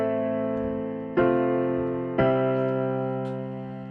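Sustained piano chords ring out alone, with two fresh chords struck at even intervals, each decaying slowly into the next.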